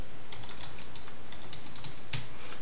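Keys clack on a computer keyboard in a short run of soft, close taps, with one slightly louder keystroke near the end and no speech.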